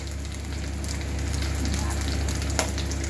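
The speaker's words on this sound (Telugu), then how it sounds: "కలుపుతూ ఉండాలండి లేకపోతే అది అడుగంటుతూ ఉంటుంది" Dry fish curry fries in a pan while being stirred, a steady close sizzle over a low background hum with one brief clink of the spoon near the end.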